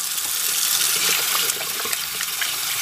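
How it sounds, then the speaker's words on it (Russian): Warm water runs steadily from a tap while a pair of eyeglasses is rinsed, a close, continuous hiss and splatter with no pauses. "Дальше снова включаете воду теплую"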